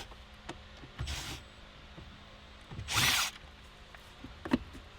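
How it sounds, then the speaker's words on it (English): A power drill fitted with a Phillips tip backs out Phillips head screws on a Nissan 350z dashboard, with two short whirring bursts and light clicks and handling noises between them, close and fairly quiet with no talk. "I have my drill right here with a Phillips tip on it"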